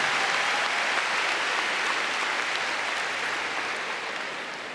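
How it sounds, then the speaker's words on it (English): A large arena crowd at the Crufts agility international final applauds steadily, a dense wash of clapping that fades gradually toward the end. "Give him a great big round of applause for Karen McCarthy from New Zealand"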